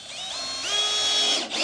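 Power drill driving a fixing into timber in a garage, a steady whining motor tone that rises in pitch partway through, running continuously for under two seconds before briefly cutting out.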